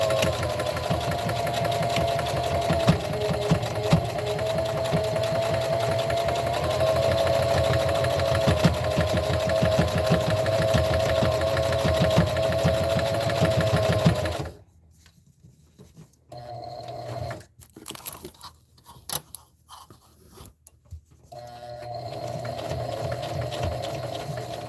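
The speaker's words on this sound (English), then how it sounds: "now I'm sewing one of my shorter sides" A sewing machine stitches the short side of a pad made from a Dollar Tree dish drying mat, a steady mechanical hum that runs continuously, then breaks into a few short halting bursts near the corner before resuming.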